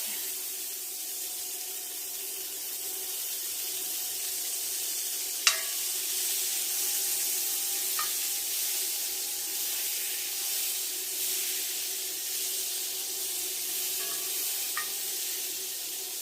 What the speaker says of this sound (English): I'm going to go ahead and put a 1/4 cup of butter in it. And we're just going to let that melt.